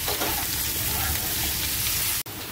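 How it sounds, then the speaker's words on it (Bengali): Potatoes frying in oil in a wok with grated ginger, salt and turmeric, a dense steady sizzle heard up close, with a brief clank near the end and no talk. "আমি কড়াইয়ে তেল দিয়েছি, তেলের উপরে আলুগুলো খুব ভালো করে ভেজে নিতে হবে।"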